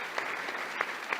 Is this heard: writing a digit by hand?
no